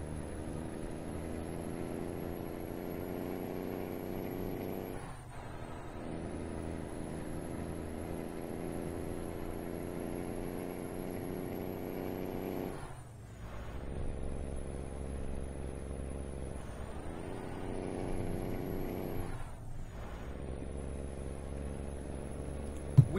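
A Kenworth W900 Aero Sleeper semi truck in American Truck Simulator pulls a construction house load, its engine droning steadily and loudly through a slow acceleration, with brief dips in pitch at gear shifts before the tone climbs again.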